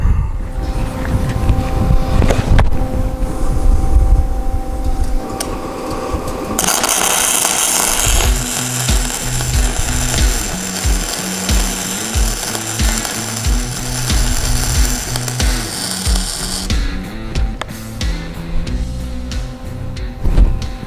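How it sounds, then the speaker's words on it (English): MIG welder laying a weld bead, a steady crackling buzz that runs close and loud for most of the stretch, with broadband hiss and irregular sputtering pops, then falls off near the end. "From a MIG weld."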